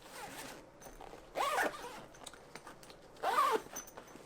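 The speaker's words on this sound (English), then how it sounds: "And these zippers are just super smooth." Two quick zipper pulls on a Maxpedition Riftcore backpack, each a short smooth rasp about two seconds apart, close and clear against a quiet background.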